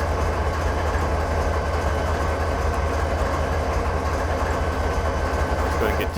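Heavy freight train rolling on the Granite to Wycon route in Train Simulator 2013, a steady low engine drone and rail rumble running continuously, with faint voice underneath.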